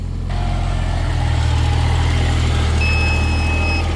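Backhoe engine running at a backyard pool dig, a loud close diesel drone at steady revs with a low rumbling hum and a faint high whine near the end.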